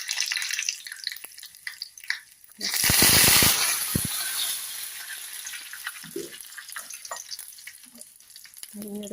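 Mustard seeds, dried red chilies and curry leaves hit hot oil for a tempering, bursting into a loud, sudden sizzle that then settles into softer crackling and spitting.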